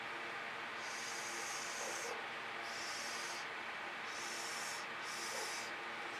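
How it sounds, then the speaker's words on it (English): Short repeated breaths of air blown through a straw onto fluid acrylic paint, each a soft, close hiss coming in rhythmic bursts about once a second. "So maybe I'll just blow on the smaller dots."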